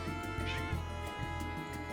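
Pet cat meowing at someone in a living space, a short soft meow close by, faint against a steady humming background of game music.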